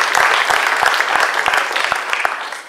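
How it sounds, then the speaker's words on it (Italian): Steady, dense applause from a concert audience for the deputy mayor at a September festival evening in Lanciano, filling the hall at close range and tapering slightly at the end. "un applauso anche al vice sindaco"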